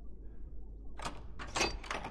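A locked door forced open with a dagger in The Last of Us on PS3: a soft scrape followed by a couple of clunking, rattling thuds as the door gives way, close and moderately loud over a low hum.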